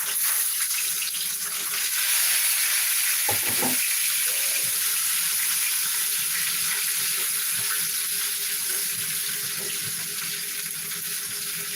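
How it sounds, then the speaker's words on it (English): Chicken pieces frying in a pot of oil for Jamaican curry chicken, a steady broad hiss and sizzle running throughout at close range, with a few brief clunks partway through and no talk. "I'm gonna add the chicken into the frying pot"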